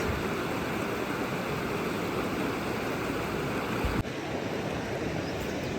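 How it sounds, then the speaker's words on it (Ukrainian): A river rushes over rapids near Tatariv, a dense steady roar of water, loud and continuous throughout, with a brief dip in level about two thirds of the way through. "ви чуєте, як річка шумить?"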